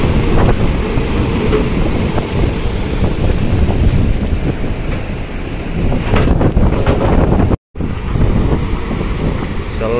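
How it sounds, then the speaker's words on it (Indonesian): Strong storm wind and big waves batter the KMP Portlink 3 ferry crossing the Sunda Strait: a loud, unbroken roar of gusts buffeting the microphone over surging water, cut by one brief dropout near the end. "Cuaca benar-benar ekstrim, jalan sudah angin kencang disertai gelombang besar."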